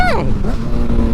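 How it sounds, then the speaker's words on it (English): A sport motorcycle, an FZ1 or R6, downshifts quickly, engine pitch falling sharply then settling into a loud, close idle-like drone over about a second. "that downshift was so crisp"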